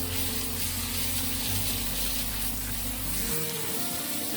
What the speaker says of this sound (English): So I'm just going to spray down the plant